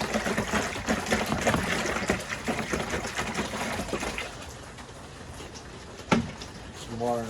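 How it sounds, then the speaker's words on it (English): Water runs into a bucket through a tube or hose during a paint sprayer fix, a steady close trickle and splash that fades slightly before a brief knock near the end. "get some water in our bucket over here"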